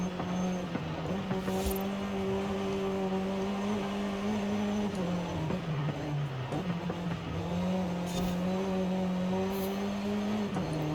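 A hot hatch car engine in the racing game Forza Horizon 5 drones steadily at moderate revs, with its pitch sliding down and back up through shifts and throttle changes over about eleven seconds, with no talk.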